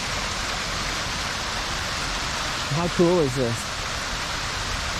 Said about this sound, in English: But yeah, just bringing us to this waterfall here.